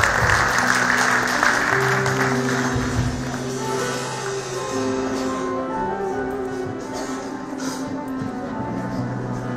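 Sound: audience applause welcoming a musical guest on stage

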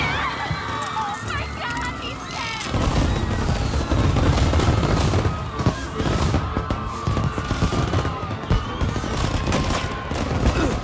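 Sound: fireworks in video game Mafia: Definitive Edition

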